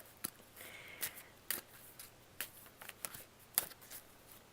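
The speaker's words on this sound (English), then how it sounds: "I like to shuffle them." Soft, quick riffling bursts of cards being shuffled, repeating irregularly in a quiet room.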